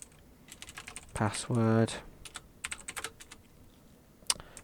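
Keystrokes on a computer keyboard, scattered light clicks across the clip while a voice speaks briefly in the middle.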